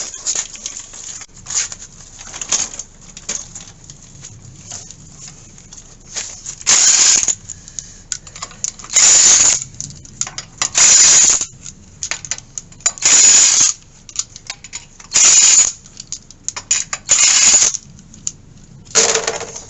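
Lug nuts being removed from a 1998–2003 Ford Expedition or F-150 truck wheel with a power impact tool, loud repeated short bursts at regular intervals with clattering and small metallic knocks between them.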